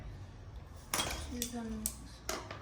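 A spoon scraping and clinking against a bowl while granola ingredients are stirred together, several sharp close clinks with soft scraping between them and no talk over it.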